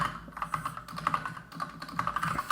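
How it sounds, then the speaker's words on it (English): Rapid, steady keystrokes on a computer keyboard while writing HTML and CSS code, close and clear, with uneven bursts and brief pauses between runs of clicks and no talking. "Struggling to type at the moment."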